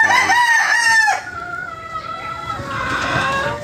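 A gamefowl rooster in a breeding pen crows loudly and close at the start, followed by softer clucking and pen noise, with someone talking quietly under it.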